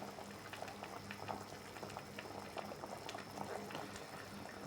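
Fish sinigang soup with moringa leaves and pumpkin tops at a steady rolling boil in a pot, a dense continuous bubbling and popping that stays even throughout without any talking.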